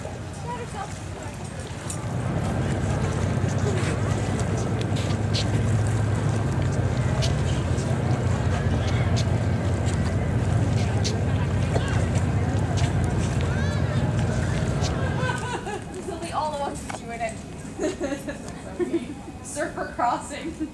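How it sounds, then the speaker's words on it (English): A small boat passes during the Balboa Island Christmas boat parade, a steady low motor rumble swelling for several seconds and then falling away, with voices and crowd chatter around it. "I see a little boat."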